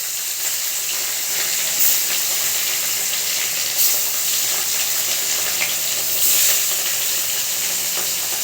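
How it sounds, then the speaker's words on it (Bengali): Fish coated in turmeric and salt fry in hot oil in a wok, giving a loud, steady hiss and crackle of sizzling oil with a few brief flare-ups, close by and with no talking. "এখন আমি মাছগুলো ভেজে নেব।"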